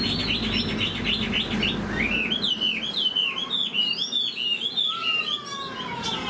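A wild-caught, mature Chinese hwamei with golden plumage and yellow legs sings close and loud. Its continuous song of varied whistled phrases rises and falls without pause, and no one talks.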